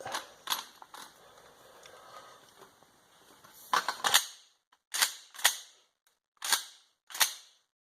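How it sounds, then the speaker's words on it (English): A Mossberg 500 pump shotgun being worked open and closed after a broken firing pin repair, heard as a quieter rattle followed by several sharp, loud metallic clacks of the action sliding and locking, close up with no talking. "the action bar release, which will open it up, close the gun"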